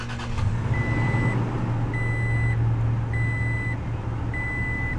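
A 2019 Toyota Tacoma TRD Sport 4x4 DoubleCab's 3.5 liter V6 fires with a push-button start, then idles steadily, accompanied by a regular, evenly spaced electronic beep.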